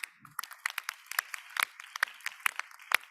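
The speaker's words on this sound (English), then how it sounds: "It's got to deserve a round of applause." Sparse audience applause at a conference session on agrifood systems and the bioeconomy, a small number of separate claps sounding irregularly and fairly faint over a quiet room.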